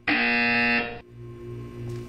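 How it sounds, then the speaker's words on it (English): A loud electronic buzzer from the Portal 2 video game sounds in one sustained harsh tone for under a second, then cuts off, leaving a low ambient hum behind. "You will hear a buzzer."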